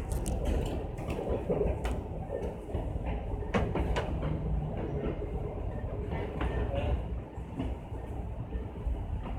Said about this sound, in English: Look at all these trains and stuff on our way, going that way.